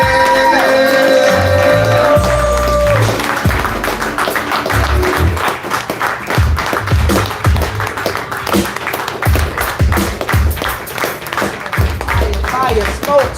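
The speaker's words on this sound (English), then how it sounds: "I want y'all to clap him all the way to the stage" Audience clapping and whooping at a live spoken-word event as a performer walks to the stage, loud and sustained over rhythmic music with a deep bass beat, with shouts and talk in the crowd.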